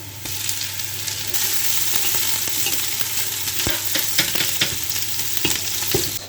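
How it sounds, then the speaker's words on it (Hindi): Steady, loud sizzling of garlic and ginger frying in a hot pan, with occasional scraping clicks of stirring. "अब मैं इसमें डालने लगी लहसुन अदरक।"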